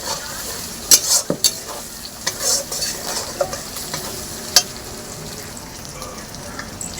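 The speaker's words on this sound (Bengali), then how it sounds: "আদা বাটা দিয়ে আবারও আমি সুন্দর করে ভাজা ভাজা করে নেব।" Ginger paste and spices fry in a pan with a continuous sizzle, punctuated by scattered crackles and the clinks of a spoon stirring the metal pan.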